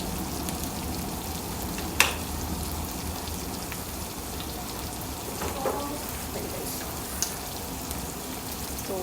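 Fennel seeds sizzle softly in hot oil for an Indian kadhi: a quiet, steady crackling hiss with a couple of faint clinks from the pan.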